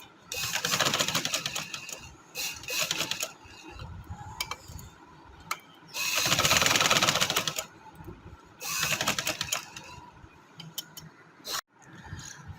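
A sewing machine runs double rows of stitching on trouser fabric in several loud rapid bursts of a few seconds each, separated by quieter pauses with small handling clicks and no talk.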